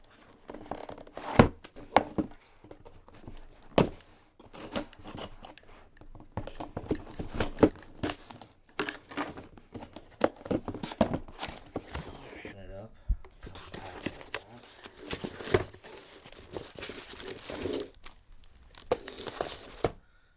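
Crinkling plastic and tearing cardboard as an Akai Pro MPK Mini 2 keyboard's packaging is opened, with irregular rustles and scrapes, close by, with a voice murmuring at times.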